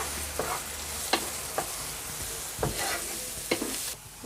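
Tuna filling for pastels frying in a pan while being stirred: a soft continuous sizzle broken by several sharp spoon scrapes and taps against the pan, close up and fairly quiet.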